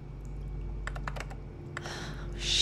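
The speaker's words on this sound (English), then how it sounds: "There's a typewriter." Typewriter keys struck in the video game Heavy Rain: a quick run of about half a dozen close, crisp clacks, then a lone stroke, with a short rustle and a swell of ambient noise near the end.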